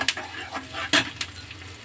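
Onions, green chillies and garlic slices frying in tempering oil, a soft continuous sizzle broken by a few brief stirring scrapes and clinks, close and fairly quiet.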